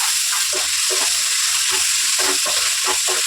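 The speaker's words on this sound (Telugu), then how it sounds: "పసుపు వేసేసుకొని కరివేపాకు కూడా వేసేసుకుందాం నెక్స్ట్ కలిపేద్దాం" Tomatoes fry in hot oil in a pan with turmeric and curry leaves for rava kichdi. A loud, dense sizzle plays alone, broken by the repeated scrape of a stirring spoon.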